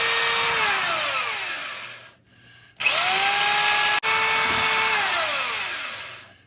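Drill spinning a wire brush inside the rusty lifter grooves of a Cat 60 engine, two long whining bursts that wind down between runs, close and alone.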